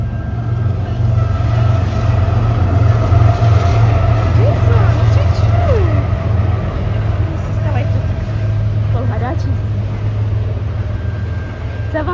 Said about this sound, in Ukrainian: Тут е, дуже часто, до речі, приїжджає потяг.